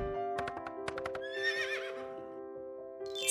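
A horse whinnies loudly with a rising, wavering neigh, heard over light music and a few sharp clicks in a children's craft setting.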